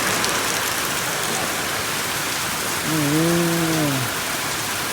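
Heavy rain pours steadily as a dense, constant hiss; near the end a cow lets out a brief low moo.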